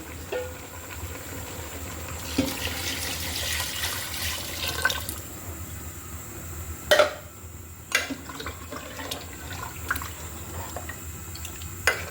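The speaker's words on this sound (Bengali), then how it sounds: "এই পর্যায়ে আমি পানি অ্যাড করে দিচ্ছি।" Water is poured into a pressure cooker holding country chicken, giving a moderate gurgling, splashing flow for several seconds, followed by a few sharp knocks and clinks of metal, with no talking.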